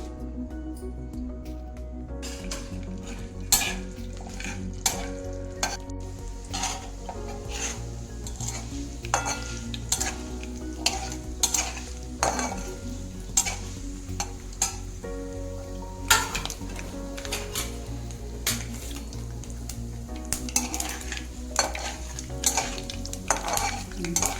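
A tempering of dried red chilies and asafoetida fries in a pan for bitter gourd jaggery chutney: continuous close sizzling under frequent sharp clinks and scrapes of a spoon stirring against the metal.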